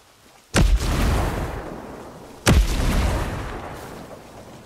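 Two heavy booming blasts about two seconds apart, each with a long rumbling tail, from a thrown grenade and gunfire in the military shooter Ghost Recon Breakpoint.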